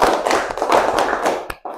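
Students in a classroom clap together on command, a short rapid cluster of overlapping hand claps ending in a single sharp clap, close and moderately loud.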